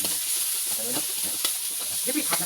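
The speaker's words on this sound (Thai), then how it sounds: "แล้วผัดพริกแกงขึ้นมาหอมๆนะ" Thai red curry paste stir-frying in a hot pan for a winged bean stir-fry, giving a steady close sizzle with scraping stir strokes throughout, no voices.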